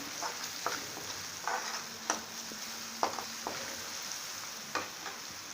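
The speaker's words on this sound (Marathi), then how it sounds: "आपण अर्धा चमचा हळद टाकूया याच्यामध्ये, 1 चमचा मसाला, परतवून घेऊया।" Turmeric and spice masala sauté in a pan for a whole moong curry with a steady, soft sizzle. Several sharp spatula stirs and scrapes stand out against it, and no one talks.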